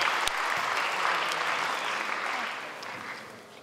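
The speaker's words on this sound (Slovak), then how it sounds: "Môžete ich odmeniť veľkým potleskom." A convention audience applauds cosplayers at Istrocon 2012, a dense, steady clapping from many hands that slowly tapers toward the end.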